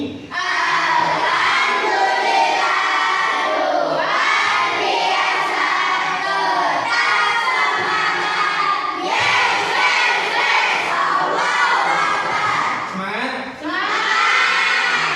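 A classroom of children shouting loudly together in reply to their teacher, a dense crowd of young voices that fills nearly the whole stretch with only brief dips.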